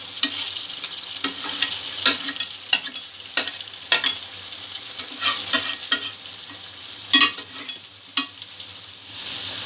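Chicken and potatoes being sautéed with spices in a pan for chicken kalia, with steady sizzling and repeated scraping stirs of a spatula, close and moderately loud throughout.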